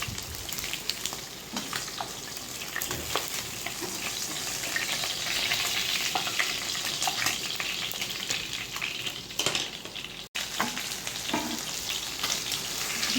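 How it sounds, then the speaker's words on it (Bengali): Pieces of katla fish sizzle and crackle steadily in hot oil in a pan, a loud, close, continuous frying hiss with scattered pops and an occasional scrape of turning. "এই পাঁচটা আবার কিছু করে আরও ভেজে নেব।"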